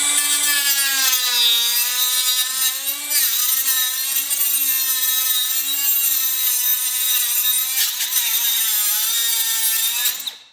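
A Milwaukee M12 3-inch cutoff tool (2522-20) plunge-cutting into PVC pipe gives a loud, continuous high-pitched grinding whine that wavers in pitch as the blade bites, then stops abruptly at the end.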